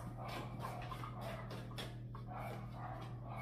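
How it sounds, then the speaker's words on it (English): A dog whimpers and yips repeatedly indoors, a run of short, high, whiny sounds nearby over a steady background hum. "Don't mind my dog."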